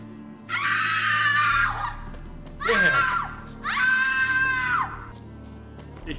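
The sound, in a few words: scream in The Witcher 3: Hearts of Stone video game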